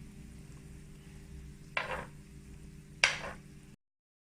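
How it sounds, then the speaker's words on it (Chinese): Tofu being flipped in a frying pan, a soft continuous sizzle under two sharp scraping clatters of a utensil against the pan, close and without talk. "同时呢，把豆腐转过另外一面。"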